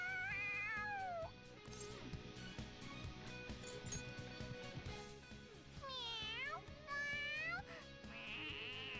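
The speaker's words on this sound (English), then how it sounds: "All right, that's enough, you stupid cat." A cat in the video game Persona 5 Royal meows and yowls several times, drawn-out and insistent, between game noise with voices talking.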